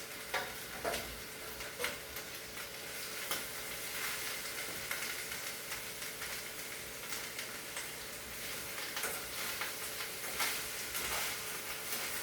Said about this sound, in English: I'm also paying attention to my plantain, making sure it's frying.